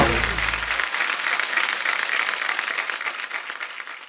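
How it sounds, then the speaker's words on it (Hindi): Loud studio audience applause on a comedy talk show stage, a dense, steady roar of clapping hands that carries on throughout, with a brief musical sting at the start. "इनके लिए जोरदार ताली।"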